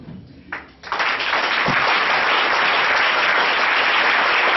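A church congregation rises and breaks into loud, sustained applause and cheering that swells quickly after a brief pause and holds dense and even to the end.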